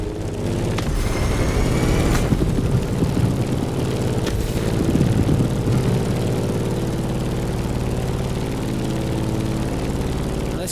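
Propeller airplane engine in the racing game The Crew Motorfest, flying through turbulent conditions near a volcano: a steady, loud droning hum with layered tonal whine that holds for the whole stretch, alone without talk.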